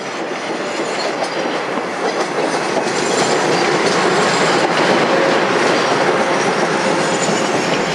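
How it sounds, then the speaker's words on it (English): A Port Washington to Penn Station train rumbles steadily along the rails close by, with a continuous roar and faint clattering of wheels, no voices. "A Port Washington to Penn Station train is approaching Wynn,"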